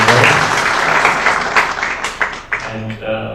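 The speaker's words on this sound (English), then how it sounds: "can we have a round of applause for our two presenters" A conference audience applauds two presenters after a session on Africa's credit market, loud and close at first, then thinning into scattered claps as voices begin under it.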